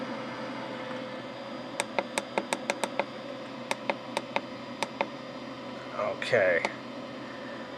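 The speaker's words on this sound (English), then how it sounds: "You could actually hear the stepper motor go, and there's also a fan in there to keep it cool." A stage light's stepper motor ticks in a quick run of sharp clicks, pauses, then clicks again, over the steady whir of its cooling fan, before a person briefly speaks.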